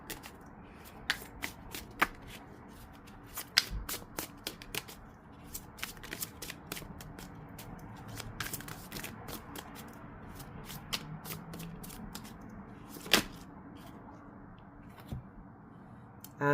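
Tarot cards being shuffled by hand: continuous riffling and sliding with crisp flicks and occasional sharp snaps, close up and fairly quiet, with no voice over it.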